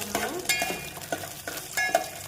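Spoon scraping and stirring rice into payasam in a cooking pot, repeated clinking strokes roughly every half second over a faint sizzle, close and steady, no talk.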